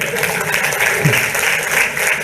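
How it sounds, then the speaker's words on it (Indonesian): An audience claps and applauds for the patrol, a steady, dense wash of clapping from a crowd with a few voices mixed in underneath. "Kita kasih tepuk tangan buat patroli kita dulu"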